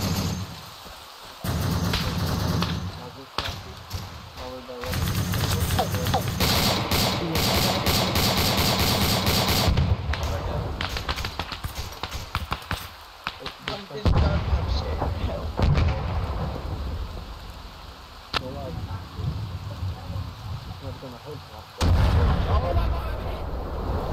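Gunfire in the video game Arma 3, repeated heavy shots and booming blasts in bursts across a combat scene, loud and close with gaps between volleys.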